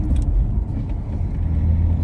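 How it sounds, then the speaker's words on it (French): A used car braking hard in an emergency stop, its low road rumble and engine noise running steady and fairly loud throughout with no voices. "Freinage d'urgence également"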